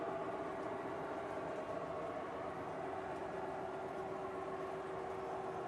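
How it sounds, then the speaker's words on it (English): Model trains roll through a scenic layout with autumn background pieces, giving a steady, continuous low rumble and mechanical hum with a faint tonal whine, with no voices. "Watching the trains roll through the scenery,"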